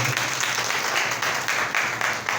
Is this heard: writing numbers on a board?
no